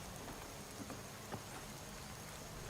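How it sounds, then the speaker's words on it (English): Soft, steady rain patters continuously in the background, faint and even, with no voices. "Why is it always raining?"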